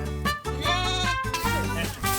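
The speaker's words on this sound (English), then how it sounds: "So Dominic's going to put up the sheep netting" Sheep in a fenced silvopasture pasture bleat loudly and close, several overlapping wavering calls in quick succession.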